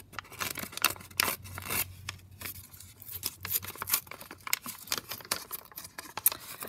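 Coffee-dyed paper is torn by hand for a journal, a series of rough ripping and crinkling bursts, close and fairly quiet, with no talking.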